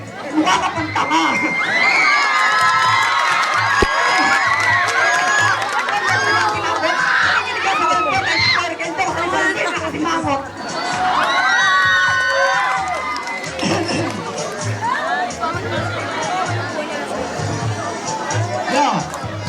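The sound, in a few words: rap battle crowd shouting and cheering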